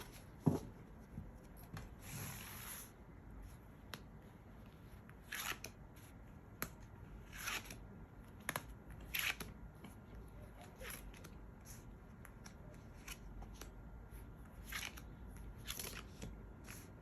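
Quiet, close shuffling and sliding of tarot cards being mixed and picked out, with soft scattered clicks and rubs and occasional brief crisp snaps against a hushed background.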